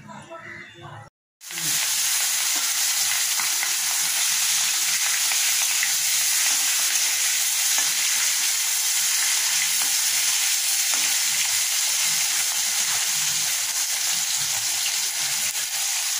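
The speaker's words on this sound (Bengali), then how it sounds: "তেল গরম হয়ে গেছে, এবার আমি এক এক করে মাছ ছেড়ে দেব" Rohu fish pieces frying in hot oil, a loud dense sizzle that bursts in after a brief pause and holds steady and close, with faint talk underneath.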